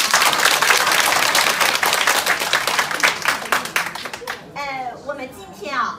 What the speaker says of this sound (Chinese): 所以我们现在先给我们的钻石们一个感谢的掌声好吗？